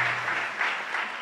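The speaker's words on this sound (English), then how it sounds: "So if you can give him a round of applause here." Audience applause at a youth day event, a brief burst of steady clapping from a crowd with no one speaking over it.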